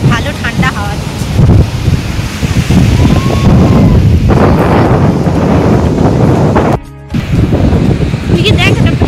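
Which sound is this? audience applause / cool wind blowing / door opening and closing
cool wind blowing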